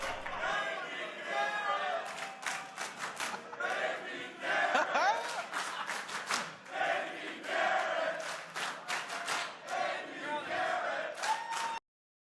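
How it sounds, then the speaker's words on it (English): A crowd at a fight event cheers and yells in loud, rising bursts that run almost without a break and then stop abruptly at the end. "So you can hear what's happening here. The whole crowd is they picked their favorite here."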